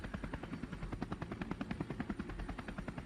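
A helicopter in a video game, flying over ground soldiers, gives a fast, steady rotor thump that throbs evenly throughout, fairly faint and alone with no talk.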